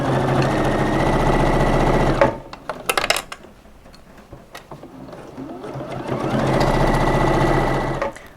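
A sewing machine runs in a loud, steady whir sewing a zipper with a zipper foot, pauses briefly amid clicks and handling sounds, then starts back-stitching again at full speed.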